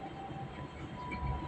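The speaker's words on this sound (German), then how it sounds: "Und da ist die S-Bahn." An S-Bahn commuter train rumbles by on Austria's Westbahn line near Eichgraben in a low, continuous roar with a faint steady whine on top, close and fairly loud.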